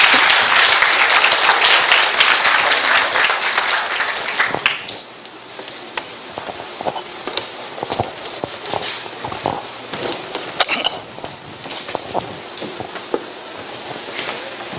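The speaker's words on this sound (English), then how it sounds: "Can you give a big round of applause" A university forum audience applauds the university president, full and loud for about four seconds before thinning to scattered, fading claps and small stray sounds.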